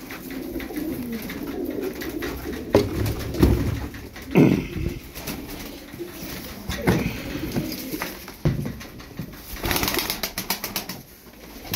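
Tumbler pigeons coo repeatedly at close range, soft throaty calls recurring alongside scattered wing flaps and rustling, with some faint talk in the background.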